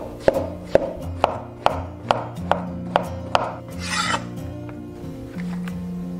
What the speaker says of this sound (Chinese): 把杏鲍菇对半切开，然后切片。